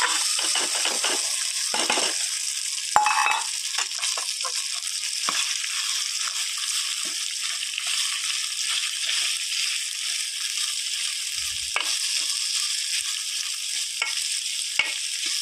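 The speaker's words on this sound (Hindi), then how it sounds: "तो इसमें मैंने ये थोड़ी सी हल्दी और नमक डाल दिया और अब मैं इसमें डाल दूंगी चावल।" Leftover cooked rice being stirred into a hot pan already holding turmeric, salt, green chilli, cumin and roasted peanuts, a steady close sizzle with scraping spoon strokes and a few sharp clinks, no voices.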